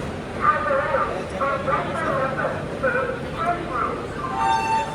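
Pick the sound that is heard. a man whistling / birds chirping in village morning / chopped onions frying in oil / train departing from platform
train departing from platform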